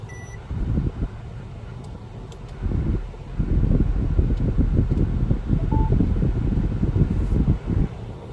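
A/C and heater blower fan running in a Mercedes W221 S550 4MATIC cabin: a loud, steady low rushing drone that surges up and down, with a faint short beep partway through.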